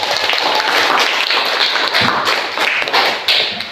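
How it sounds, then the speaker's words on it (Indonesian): Students in a classroom applaud a presenting group, a dense, steady burst of many hands clapping that fills the whole stretch, loud and close, then tapers slightly at the end. "give applause to group 1"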